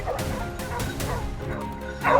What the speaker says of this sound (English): The moment we heard fierce barking,